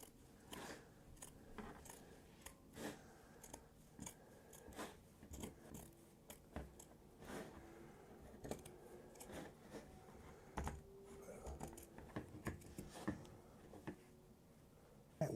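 Scissors cutting the fabric of a shirt being tailored, a quiet run of irregular crisp snips and clicks, close up and faint with no talking.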